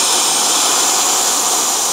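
A canned air duster with its straw removed blasts a loud, steady, broad hiss for about two seconds, then cuts off abruptly.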